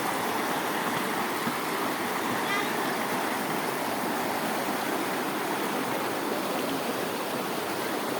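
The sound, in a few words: river water where people bathe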